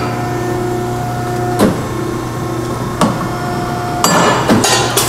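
A Scotchman 5014ET 50-ton hydraulic ironworker hums steadily at its angle shear while steel angle is mitered, with sharp metallic cracks and clanks as the blade cuts, loud and close, no voices.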